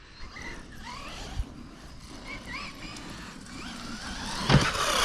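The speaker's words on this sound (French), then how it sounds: "Yeah, monster truck," MJX Hyper Go 1:10 radio-controlled monster truck on a 3S battery driving around a park, its small electric motor whining up and down in pitch with throttle bursts, fairly close, with a sharper thump near the end.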